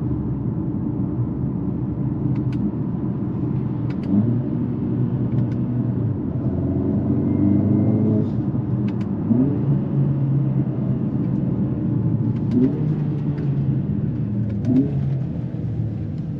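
A 2023 Mercedes-AMG GLA 45 SUV accelerating in race mode, with a steady loud engine roar and rumble, rising tones and gear changes heard from inside the cabin, no talking.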